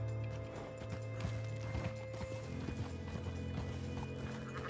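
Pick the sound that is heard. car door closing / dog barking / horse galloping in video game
horse galloping in video game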